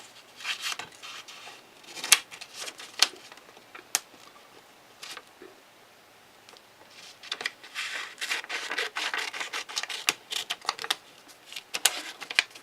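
Scissors snip and trim a small piece of paper in a craft setting, a series of faint, irregular crisp cuts and clicks spaced unevenly, with quiet gaps between bursts.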